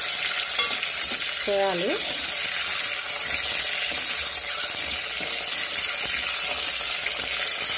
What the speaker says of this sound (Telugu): వీటిని బాగా ఫ్రై చేసుకొని బాగా మధ్య దాకా